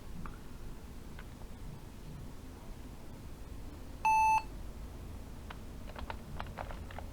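A 15-year-old laptop powering up gives a single clear electronic beep midway, amid faint clicks and soft tapping of keys in a quiet room.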